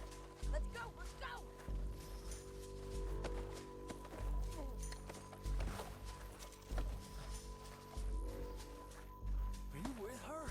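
Horses galloping with a rhythmic clip-clop of hooves, fairly faint and steady throughout, mixed with voices talking and other background activity.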